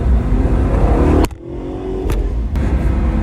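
A 2011 Audi R8 Spyder engine drones loudly while driving, drops off abruptly with a sharp shift click, then picks back up and rises steadily as it revs, with another click later.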